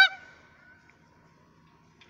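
A pet goose gives one loud, close honk that fades quickly, then near quiet with a faint second call at the end.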